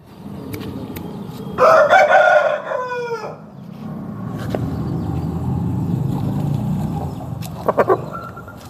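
A rooster crows once, loud and near, over a constant low background hum; a brief cluck or two follows a few seconds later.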